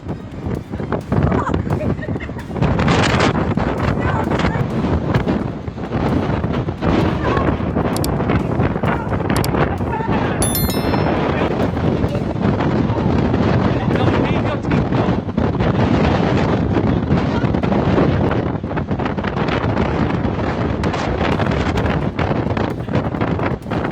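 Strong wind buffets the microphone outdoors, a loud continuous roaring rush with gusty swells that covers the whole stretch, while voices are partly heard beneath it.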